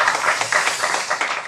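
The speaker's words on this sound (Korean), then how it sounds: "우리 수간 성가대 다시 한번 격려의 박수하겠습니다" Church congregation applauding the choir during a Sunday worship service, a dense, steady wash of many hands clapping at close range, continuous and fairly loud throughout.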